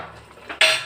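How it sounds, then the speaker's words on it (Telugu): A lid is set onto a pot of cooking ridge gourd curry, giving one short, bright metallic clank after a quiet moment, heard up close. "మూత పెట్టుకున్నామండి"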